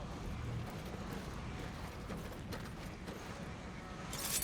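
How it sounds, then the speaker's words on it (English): Horse hooves clip-clop at a steady walking rhythm in the video game Assassin's Creed Mirage, fairly quiet and close, with a brief louder burst at the very end. "And I got the horse."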